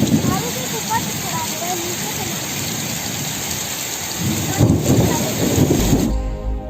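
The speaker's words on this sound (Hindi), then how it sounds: "बहुत ही ज़ोरों की बारिश हो रही है।" Very heavy downpour drumming loudly and steadily in a village setting, a dense continuous roar of rain that swells briefly near the end.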